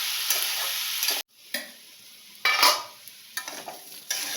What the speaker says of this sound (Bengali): দেখুন আলুটা একটু ভাজা ভাজা হয়ে গেছে